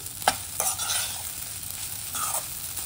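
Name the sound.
stirring sabudana khichdi frying in pan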